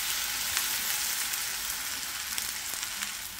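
Tilapia frying in a pan with sesame seeds and tomatoes, tossed about, giving a steady close sizzle with faint crackles and a few small clinks, no voices.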